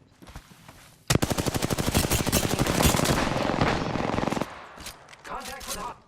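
Rapid automatic gunfire from an Apex Legends match bursts in loud and close, a dense stream of shots lasting about three seconds, with game sounds continuing quietly around it.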